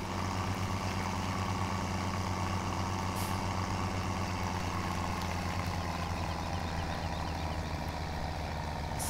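A tractor engine idles in Farming Simulator 17, a steady low rumble running continuously and evenly throughout, close and alone with no talk.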